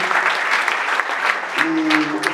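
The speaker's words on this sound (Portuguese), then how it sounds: "Palmas para o nosso Deus." Church congregation clapping together in worship, a steady dense round of applause filling the room, with a sustained tone or voice rising underneath partway through.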